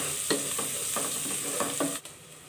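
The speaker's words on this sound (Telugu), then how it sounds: "ఆనియన్స్ని బాగా వేయించుకోవాలి. ఇలా వేయించుకోవాలి, మూత పెట్టుకొని వేయించుకోవాలి." Sliced onions fry under a lid in a pan, a steady hissing sizzle with a few soft knocks and stirring touches spaced through it, close and moderately loud.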